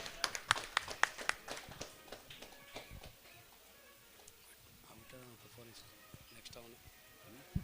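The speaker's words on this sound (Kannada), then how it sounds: "ಅವರಿಗೆ ಜೋರ ಚಪ್ಪಾಳೆ ಹೊಡಿಬೇಕು." An audience at a Karnataka community association event claps in a short burst of loud, scattered applause, which fades into quieter background murmur and speech.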